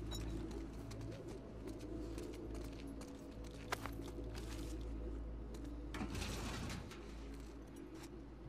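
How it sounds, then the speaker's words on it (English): Pigeons coo softly and continuously in The Last of Us Part II, a low ambient murmur layered over a steady game background with occasional faint footstep-like clicks and mechanical sounds. "hear pigeons."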